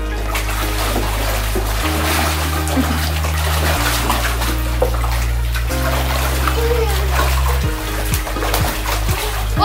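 Water splashes and sloshes nearby as a child swims, with steady splashing mixed with an excited voice and a strong, continuous low hum underneath.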